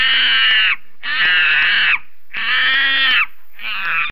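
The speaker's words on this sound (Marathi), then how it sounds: "बरोबर, माकड." A monkey calling in four loud, harsh, drawn-out screeches, each about a second long with short gaps between, close and alone.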